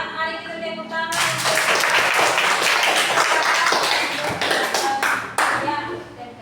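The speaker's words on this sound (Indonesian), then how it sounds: "mari kita tepuk tangan" A classroom of pupils claps together in a long, dense burst of applause after a lesson on helping parents, loud and close, with a voice heard at the start before the clapping takes over.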